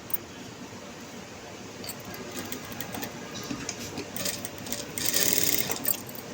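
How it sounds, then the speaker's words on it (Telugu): A sewing machine runs a double stitch along the seam of an unlined blouse, a steady close mechanical whir with fine ticking, getting louder and busier near the end. "డబల్ స్టిచ్ వేసుకుంటాము."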